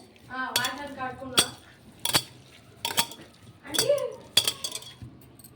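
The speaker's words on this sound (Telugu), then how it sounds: "ఇవన్నీ నీట్గా కలుపుకుందాం ఇట్లా" Mutton biryani ingredients with coriander, mint and a small tomato being mixed in a pot, a handful of sharp metallic clinks and scrapes of a spoon against the pot, close and loud, between stretches of speech.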